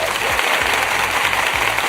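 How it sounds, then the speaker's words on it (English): Steady dense applause from a studio audience at a reality TV after-show, filling the whole stretch at an even, loud level with low music underneath. "Let me give you the big applause"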